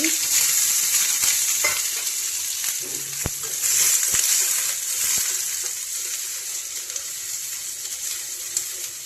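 Onions sizzle and crackle loudly in hot oil for a tempering, with a steady frying hiss and occasional sharp pops and stirring clatter.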